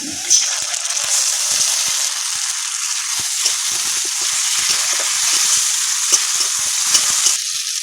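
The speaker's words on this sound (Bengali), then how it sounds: "পেঁয়াজ আমার ভাজা হয়ে গেছে এবার দিয়ে দেবো টমেটো বাটা" Fried onion sizzling in a pan as tomato paste goes in, a dense, loud, continuous crackle up close with scattered light pops and scraping stirs.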